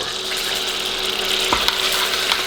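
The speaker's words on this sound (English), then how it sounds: "our butter is now starting to melt" Butter melts and sizzles in a pan on the stove, a steady close frying hiss with a small clink or stir near the middle, no voices.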